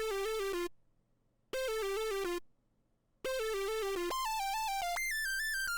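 Short, weird synth lead from an FL Studio beat: a bright buzzy stepping phrase played twice with silent gaps, then repeated and climbing up an octave and another, loud and alone.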